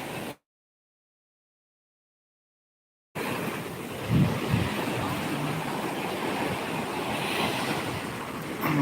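Sea waves wash onto the beach at Mahabalipuram on an overcast morning, a continuous broad surf roar mixed with wind rumble on the microphone. It begins after about three seconds of dead silence, and no one speaks.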